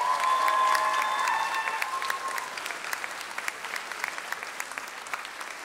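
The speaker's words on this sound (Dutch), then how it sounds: "Applaus." Applause from an audience at a musical presentation, a dense spread of clapping that starts full and gradually thins into scattered claps, with a faint tonal sound lingering early on.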